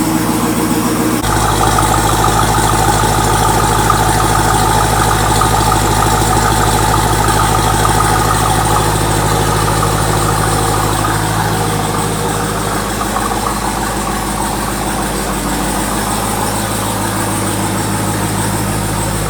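A supercharged Jeep Trackhawk idles nearby with a steady, deep rumble and a constant whine on top, loud and unbroken for the whole stretch, no one talking.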